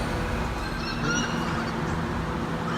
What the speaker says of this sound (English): seagull is a very interesting creature.